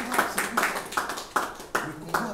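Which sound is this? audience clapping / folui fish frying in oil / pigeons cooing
audience clapping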